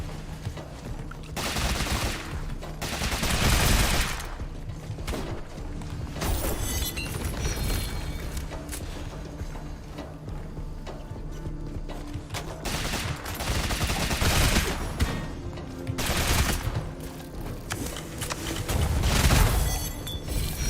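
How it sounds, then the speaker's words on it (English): Video game gunfire in bursts of rapid automatic shots, several loud fusillades with short pauses between them, dense and booming, with no talking over it. "Okay, my bullets did not stop it."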